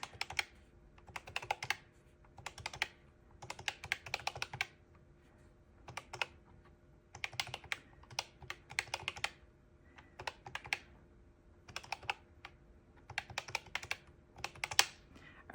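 Rapid clicking of calculator keys pressed with the left hand while totaling a budget, coming in short bursts separated by brief pauses, close and fairly quiet against a faint steady hum.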